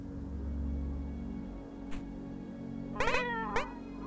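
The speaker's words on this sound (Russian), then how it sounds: "Есть озвучка мяуканья." Cat meowing sound effect from the video game Momodora: Reverie Under the Moonlight, with one faint blip, then two clear meows close together near the end over a steady background hum of game music.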